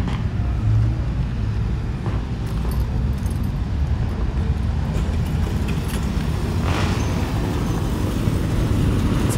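Cars drive past a house as school traffic begins, making a steady, fairly loud low rumble of engines and tyres with no clear single pass and no talking.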